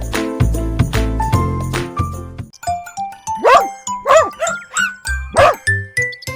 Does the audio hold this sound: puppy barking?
yes